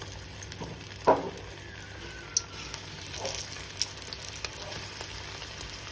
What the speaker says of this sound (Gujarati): હવે આપણે આને તળી લઈશું। એના માટે આપણે તેલ ગરમ થવા મૂકેલું છે।